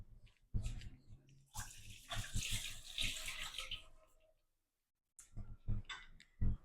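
Tap water runs over freshly peeled ginger being rinsed in a kitchen sink, a close, steady splashing flow with a few brief gaps, and someone speaks quietly at times.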